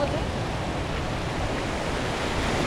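Surf washes in at a seaside fishing spot as a constant broadband rush of splashing water, loud and close, heard on its own without talk.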